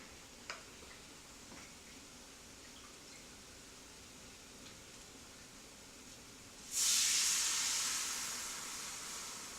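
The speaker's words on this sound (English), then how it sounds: "In that same pan, I'm going to add the beef burgundy, cooking wine." Beef burgundy cooking wine poured into a hot pan bursts into a loud, bright hiss partway through after quiet background ticks, then the sizzle slowly fades while holding on.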